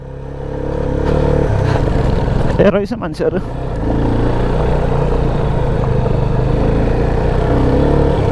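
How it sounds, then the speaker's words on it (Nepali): A motorcycle climbs a road toward Marble Dada in heavy rain, its engine droning loud and close with a brief rattling clatter midway, while a rider talks over the steady hum. "अब अहिले बाइकमै आउन पाइयो"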